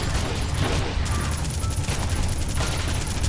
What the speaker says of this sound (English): So yes, the pistol works underwater.